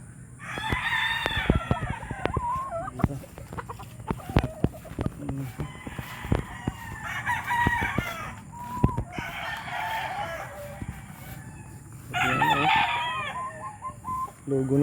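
Chickens at a poultry farm crow and cluck in the rain, with several drawn-out crows repeating over steady rainfall and scattered sharper clucks and taps, moderately close.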